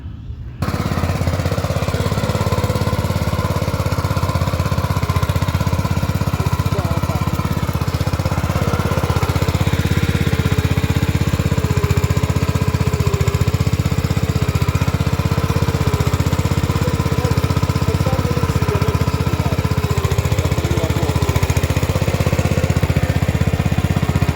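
Rotovator (rotary tiller) running during a field test, a loud, steady engine drone with a rough churning, rattling texture that continues unbroken and close.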